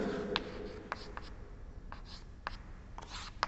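A pen writes an experiment result on paper, giving short, faint scratchy strokes spaced irregularly over a quiet, steady room background with no talking.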